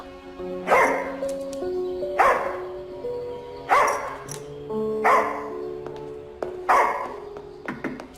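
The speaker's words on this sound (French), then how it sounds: "Il aboie beaucoup, mais il est pas méchant." A dog barks five times in loud, close bursts spaced about a second and a half apart, with some whimpering between the barks.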